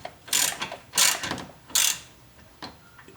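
A ratchet with a 10mm socket works on a BMW 328i during a water pump job, giving three loud bursts of rapid clicking followed by a fainter, shorter burst near the end, with no talking.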